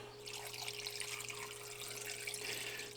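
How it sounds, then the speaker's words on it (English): Reused mozzarella brine pours steadily over a large batch of cheese curds, a continuous close liquid splash and trickle running alone for the whole stretch with no talk. "now we just got to add the brine"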